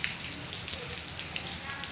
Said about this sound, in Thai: ตอนนี้ก็เริ่มบางลงมานิดหน่อยแล้วนะครับ